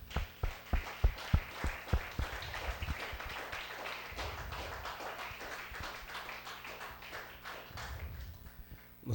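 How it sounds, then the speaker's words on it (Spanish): Applause at a church service, a congregation clapping steadily for several seconds with sharp individual claps early on, then blending into a dense, fairly loud wash that fades out. "démele un aplauso al que vive"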